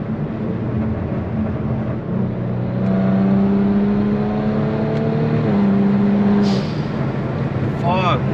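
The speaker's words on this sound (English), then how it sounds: "this thing being straight pipe has so much drone" A loud, steady low exhaust drone from a straight-piped Kia Stinger fills the cabin while cruising, with talking over it and a rising whine near the end.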